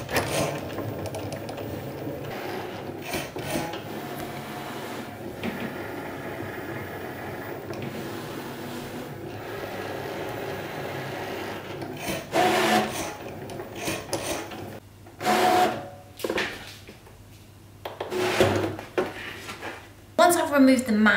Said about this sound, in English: the Cricut machine will start cutting out my stencils